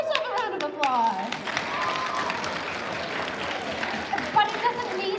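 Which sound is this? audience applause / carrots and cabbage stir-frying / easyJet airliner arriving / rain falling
audience applause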